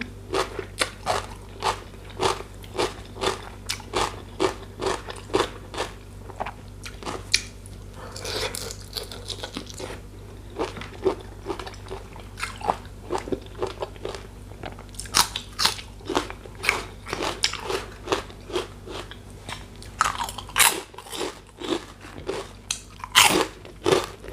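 Spicy som tam papaya salad with fresh shrimp eaten by hand, giving loud, close crunchy bites and wet chewing that repeat in a steady rhythm throughout, with no talking.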